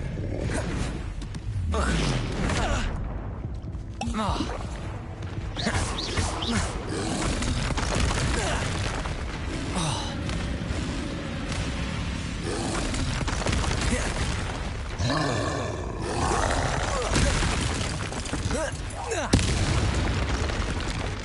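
Confringo explosive spell blasts go off in the Hogwarts Legacy video game, heavy booming bursts and rumbling impacts that keep coming within a dense, loud battle mix.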